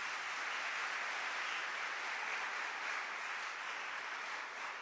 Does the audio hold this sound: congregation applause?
yes